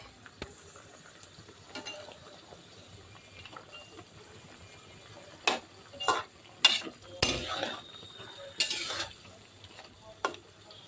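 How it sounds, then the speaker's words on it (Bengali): Fried koi fish being stirred in a pan, with quiet background sizzling broken by sharp scraping and clattering strokes of a utensil against the pan, clustered in the second half. "ভাজা কই মাছগুলো দিয়ে দিলাম।"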